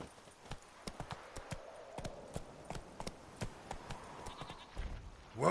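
Roach, a horse in The Witcher 3, clops along at a steady walking rhythm, each hoof strike sharp and distinct over a soft ambient bed, with a louder burst of sound at the very end.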